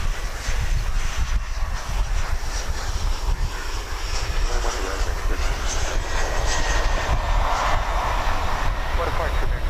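An American Airlines jet roars loud and continuous as it takes off from runway 18 left at Dallas Fort Worth airport at daybreak, with a steady low rumble and a voice talking over it.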